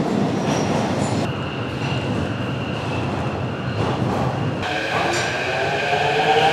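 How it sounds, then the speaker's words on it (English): A train in a deep underground metro station in Ukraine, a steady loud rumble of rolling carriages with rising squeal and clatter, no voices over it. "I cannot believe you'll have deep stations like this."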